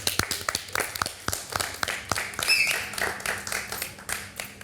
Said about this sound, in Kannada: ಚಪ್ಪಾಳೆಯೊಂದಿಗೆ ಸ್ಟಾರ್ಟ್ ಮಾಡ